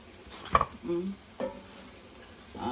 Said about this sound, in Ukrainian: щоб ваші пиріжки піджарилися отак трохи чуть по боках